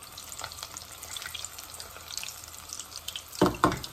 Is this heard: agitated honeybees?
no